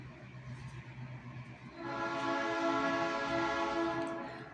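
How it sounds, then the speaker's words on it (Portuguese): A train passes with a sustained, steady horn blast coming in halfway through, building and holding over the rumble of the rail cars at moderate distance. "E lá vem o trem."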